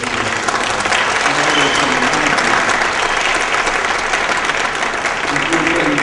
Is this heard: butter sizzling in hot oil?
no